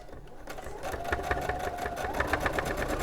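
Domestic sewing machine stitching at steady speed, a close, even mechanical whir with rapid regular needle clatter that builds up after a quiet start.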